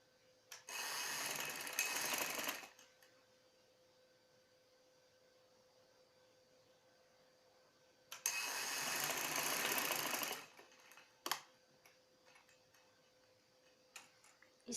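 A domestic sewing machine runs in two bursts while stitching the frill of a baby frock, each steady whirring run lasting about two seconds, with quiet pauses and a few faint clicks between them.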